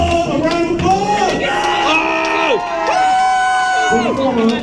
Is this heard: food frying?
no